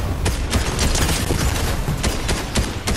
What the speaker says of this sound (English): they're shooting at me, now.